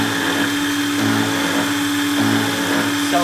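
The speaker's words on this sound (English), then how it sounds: "you can see how it's chewing through. So we need to clear some chips. So if you look inside here, you see we're using a high-speed milling technique." A self-made milling machine cutting with a high-speed milling technique, chewing through material with a steady, loud, whining motor-and-cutter drone that holds without break.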